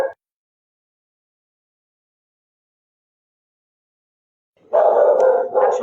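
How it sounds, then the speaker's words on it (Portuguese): A small dog barks in a short, lively burst near the end, after a long stretch of near silence, with a faint sound at the very start. "Cachorrinho aí dando boa noite"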